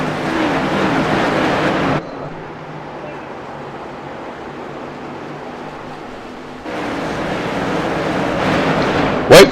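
Race cars lapping an oval in a heat race roar loudly past, fade to a distant engine drone for several seconds, then swell again as the pack returns close by.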